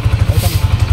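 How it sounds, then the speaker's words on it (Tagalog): A motorcycle engine, started remotely by a Sniper V4 two-way alarm, chugs close and loud in a steady, rapid idling rhythm. "Yan po, kasumandar yung motor."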